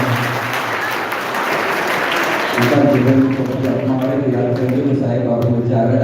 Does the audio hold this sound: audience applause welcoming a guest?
yes